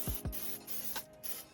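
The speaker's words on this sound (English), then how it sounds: "I'm just gonna spray some rust proofing under here while I'm at it," Short aerosol bursts of rust-proofing spray hiss under a car, several quick hissing blasts with brief gaps between them, fairly quiet and close.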